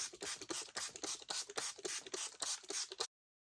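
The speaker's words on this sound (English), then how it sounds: "now we're going to start spraying. So I'm going to put a little bit of water down first." Rapid repeated spritzes of water from a pump spray bottle, about a dozen quick bursts in a steady rhythm, close by, then silence.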